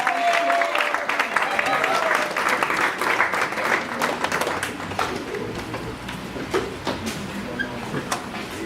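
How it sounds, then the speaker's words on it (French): Crowd applause and cheering welcoming a pastor at a church gathering, loud dense clapping with voices mixed in, gradually thinning out. "Acclamons très fort."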